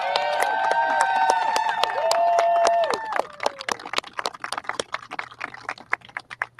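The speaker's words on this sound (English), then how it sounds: "Can we get one more round of applause for Representative Al Green?" An audience applauds Representative Al Green, scattered clapping and cheers that start dense under loud tonal sound, then thin into sparse individual claps.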